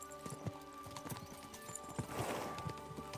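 Horses in Kingdom Come 2 clip-clopping on the move, their hooves striking in quick irregular beats close by, with a whinny, jingling tack and a low musical drone underneath.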